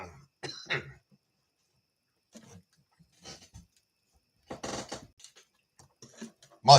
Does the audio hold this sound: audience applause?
no